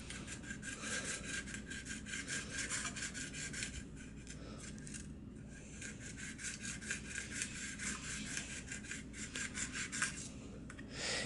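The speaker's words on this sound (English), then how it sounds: "So I'm going to just take a piece of sandpaper and fade it down to the right length." Sandpaper rubbed up and down a model Union Pacific locomotive flag, a steady rhythmic scratchy rasping repeated stroke after stroke, close and quiet with no talking.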